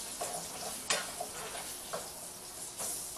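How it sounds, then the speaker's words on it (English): Potatoes stir-fry in hot oil with a steady sizzle, broken by several scraping stir strokes through the pan at irregular intervals, close and moderately quiet, with no talking. "You can hear the oil heating up quickly. And we're going to quick stir fry them."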